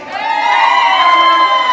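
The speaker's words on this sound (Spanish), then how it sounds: "A ver el grito de las chicas solteras" A crowd of single women at a party shouts and cheers together, a loud, sustained whooping chorus of high voices lasting under two seconds.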